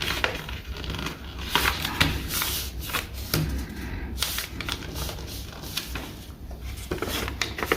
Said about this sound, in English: Flip it over and fold the other side just to match it.